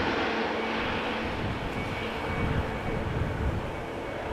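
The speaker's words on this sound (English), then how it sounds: "In the meantime, another EasyJet Neo." Distant engine rumble from an EasyJet Airbus A320neo jet at Amsterdam Schiphol Airport, a moderate, steady broadband roar with no distinct peaks.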